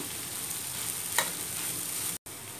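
Cooked chana dal and onions are stirred in a frying pan, producing an even hiss of frying with one brief scraping swish midway and a sudden momentary cut near the end.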